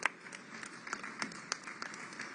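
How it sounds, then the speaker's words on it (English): Applause from a meeting audience for the panelists of a climate public-engagement event, scattered claps over a steady wash, moderately quiet and brief. "a round of claps again for all our panelists, please"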